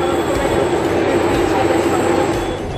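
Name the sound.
train passing in Vienna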